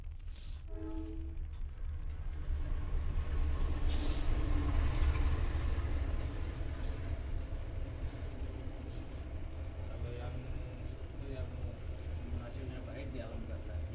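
A train rumbles past with a steady low roar and rattle throughout, with faint voices in the background.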